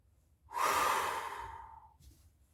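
A single long, audible exhale from a person demonstrating a slow, relaxing breathing pattern, starting abruptly, loud and close, then tapering off, followed by a faint short intake.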